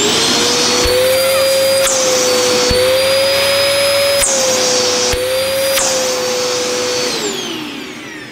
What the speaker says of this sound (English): Finally, I'll just see what the suction's like at the hose end.